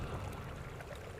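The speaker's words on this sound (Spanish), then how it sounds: "un rincón escondido en la naturaleza, donde el agua corre libre. Un pequeño arroyo" A small natural stream runs freely over smooth mossy stones, a steady close babble of flowing water with no voices.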